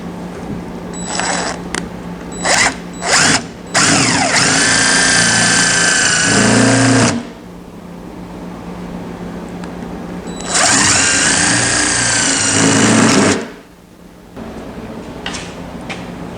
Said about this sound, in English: I can drill the plug out, and then behind it should be a screw.